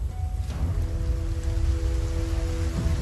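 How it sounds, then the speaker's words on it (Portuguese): Steady rain falls through the night over the samurai battlefield at Sekigahara, a dense constant hiss with faint sustained tones running underneath. "Chove no campo de batalha toda a noite."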